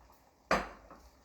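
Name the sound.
millet being added to a pot of boiling water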